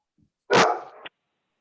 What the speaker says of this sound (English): Is that your dog, Sarah?